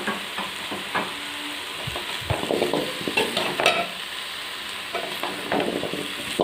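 Yellow pumpkin pieces stirred with masala in a pan while cooking poosanikai kootu, giving a steady frying sizzle with repeated scraping strokes of the spoon, close and fairly loud, with no talking.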